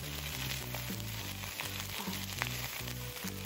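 Pork and onions frying in a pan for jjamppong ramyeon, giving a steady close sizzle with a brief stir, under low background music.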